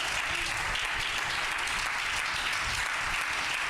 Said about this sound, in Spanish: Le doy un aplauso fuerte al Señor.